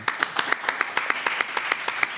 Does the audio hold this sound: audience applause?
yes